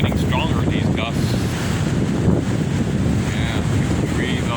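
Strong windstorm gusts roar and buffet the microphone in a continuous loud rush, with voices faintly audible beneath.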